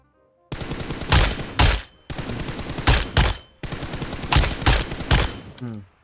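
Automatic gunfire in the mobile shooter game PUBG Mobile, three long bursts of rapid shots each lasting over a second, loud and close, separated by brief pauses, with no talking.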